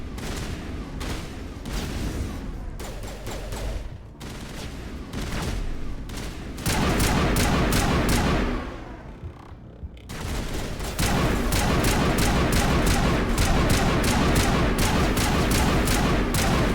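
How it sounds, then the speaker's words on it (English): Sustained gunfire in Mass Effect as a character shoots at a wall, loud rapid bursts continuing almost throughout with only brief pauses between volleys. "She is shooting at a wall. You are shooting a wall."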